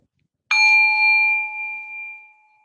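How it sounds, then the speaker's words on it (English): A meditation bell is struck once to close a guided meditation, a clear, bright ring that sustains and slowly fades over about two seconds, heard alone in silence. "And closing with the sound of the bell."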